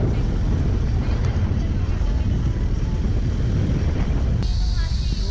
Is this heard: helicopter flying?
yes